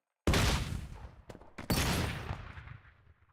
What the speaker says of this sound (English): ஓ இது grenade Grenade!